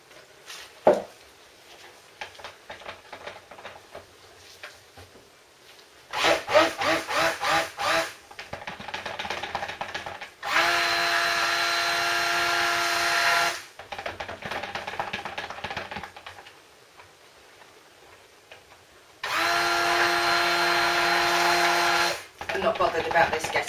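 Lye water being whisked for cold process milk soap, with bursts of steady whirring from a stick blender, two long loud runs among shorter rattling passages, and a person talking in between.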